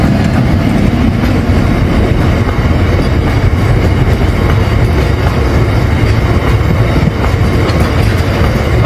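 A goods train carrying limestone from a cement works rumbles past a level crossing, a loud, close, continuous roar of wagons with a rapid clatter of wheels on rail.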